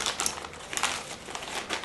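A plastic bag wrapping a freshly made t-shirt crinkles close up in a brief burst of crackling rustles as it is handled.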